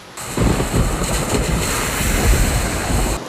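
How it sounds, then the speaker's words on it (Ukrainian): Heavy rainstorm with thunder in Poltava, a loud, dense roar of pouring rain and gusting wind with low rumbling and buffeting close to the microphone, continuous and without speech. "За лічені хвилини небо затягнулося хмарами і почалася злива з грозою."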